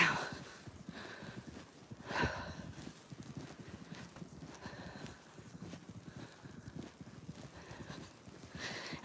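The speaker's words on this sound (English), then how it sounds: "I'm marching, and I'm marching, and I'm marching" Someone marches on foot through deep drifted snow in a snowstorm, boots crunching in a steady, repeated rhythm of close, muffled steps over windy outdoor noise, with occasional faint breathing.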